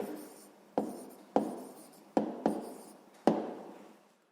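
Pen writing an answer by hand on paper, heard as five crisp scratching strokes with quick onsets and short decays, close and clear in a quiet room with no talking.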